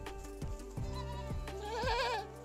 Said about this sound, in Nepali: हाम्रो बाख्राहरू यति